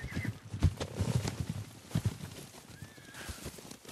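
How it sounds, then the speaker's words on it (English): Horses gallop with rapid hoofbeats in the video game Ghost of Tsushima, a whinny rising above the busy, fairly loud clip-clop throughout. "Horses, they're coming for us."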